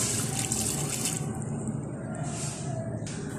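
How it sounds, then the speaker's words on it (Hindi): Water pours in a steady, close rush into a cooking pot of chicken for corn soup. It fills continuously with a faint bubbling splash and no talk. "सारा पानी मैंने रिमूव कर दिया, अब मैं इसमें फिर से पानी ऐड करूंगी।"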